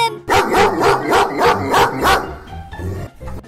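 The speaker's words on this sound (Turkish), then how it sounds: "Pis köpek, bırak oğlumu." Minecraft dog barking in a rapid series of about six sharp barks, close and loud, trailing off into a few softer yips and whimpers at the end.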